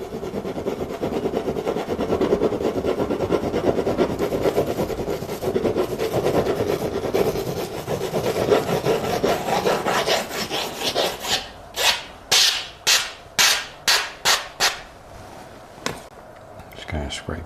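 Something scrapes across a wood surface in quick back-and-forth strokes, soft and continuous at first, then turning into a series of sharp, distinct rasping pulls near the end.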